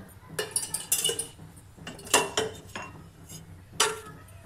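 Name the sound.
wok being placed on stove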